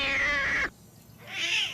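A cat meows loudly and close up, one long cry followed by a brief pause and a second rising meow.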